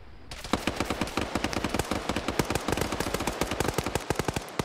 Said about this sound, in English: Lusode and McCarthy gave return fire